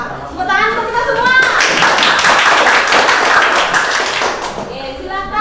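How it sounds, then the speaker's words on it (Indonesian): Children clapping together in a classroom, a dense burst of hand claps rising after a brief voice and lasting several seconds, with kids' voices mixed in at the edges. "Tepuk tangan untuk kita semua."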